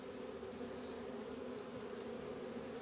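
Honey bees swarm around an opened hive during an early beekeeping check, a dense, steady buzzing that holds without a break, close and fairly quiet, with no talking.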